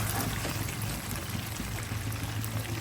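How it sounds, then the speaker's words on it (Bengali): Hot water is poured into chicken curry with potatoes to make gravy, giving a continuous faint splashing pour for a few seconds. "গরম পানি দিয়ে দেবো ঝোলের জন্য"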